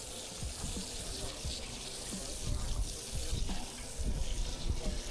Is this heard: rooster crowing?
no